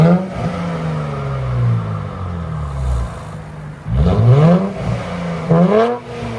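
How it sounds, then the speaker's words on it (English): A 2023 Nissan Z 3.0 twin turbo with a straight-piped, muffler-deleted exhaust idles loudly up close, then revs in sharp rising blips, two of them clearly separated near the end. "That's what it sounds like with a muffler delete."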